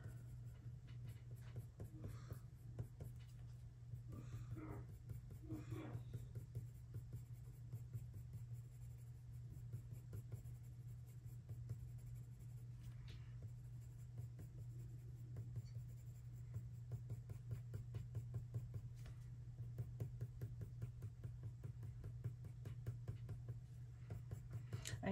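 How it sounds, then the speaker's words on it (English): A colored pencil scratches steadily across paper while someone draws a chocolate Labrador. The soft, continuous rasping strokes are close and quiet, running over a low constant hum throughout. "you hear that noise of my pencil hitting the paper"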